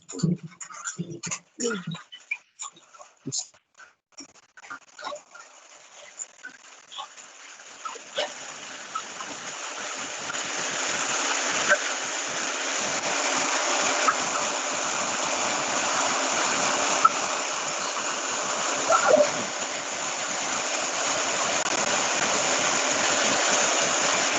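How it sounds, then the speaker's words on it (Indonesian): Rain falls in a steady, even hiss that swells and then holds for most of the stretch, preceded by a few scattered clicks and knocks at the start. "Hujan lagi."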